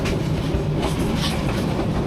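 Jamalpur Express passenger train running fast at night between Mymensingh and Dhaka, a loud steady rumbling roar with rattling carriage noise and a faint rhythmic clatter of wheels throughout.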